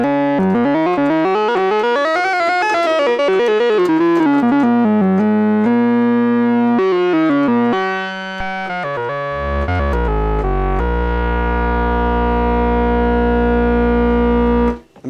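A Roland SH-3A analog synthesizer plays warm, buzzy oscillator tones that sweep and glide in pitch, then settles into a deep sustained bass note, loud and close with no talking.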